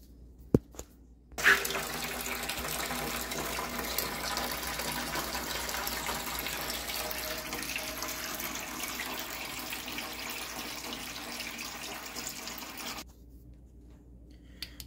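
Water gushes steadily for about twelve seconds into a water softener tank being topped up with calcite acid neutralizer, filled by bucket, a constant close splashing rush that starts and stops abruptly with quiet before and after.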